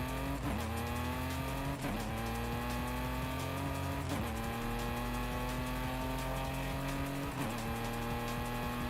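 A BMW 2002 Turbo races in Forza Horizon 5, its engine droning loud and steady as it climbs through the gears, with sharp dips at each shift and a faint tyre squeal underneath.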